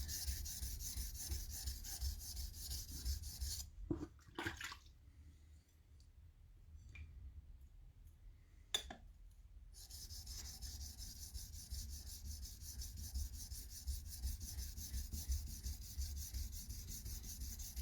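A 400-grit whetstone rasps steadily against a blade's bevel under light pressure, soft and close, with a brief pause midway before the stroking resumes.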